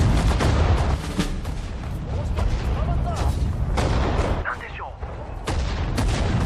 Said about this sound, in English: we have artillery to help on these tanks too